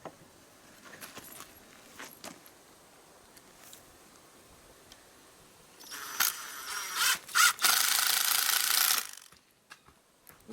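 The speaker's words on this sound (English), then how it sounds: "Swing that gate and lock it in place." A homestead gate swings shut with scattered creaks and clicks, then a louder run of metallic rattling and a latch snapping into place, fairly close.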